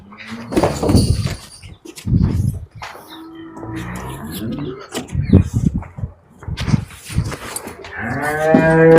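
A heifer calf moos repeatedly at close range, several deep lowing calls in a row, ending with a longer, higher moo.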